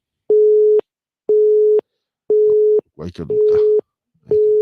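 Busy tone on a radio phone-in line after the caller's connection drops: a steady beeping in regular on-off pulses, loud and clear, with a host's voice briefly cutting in over one beep.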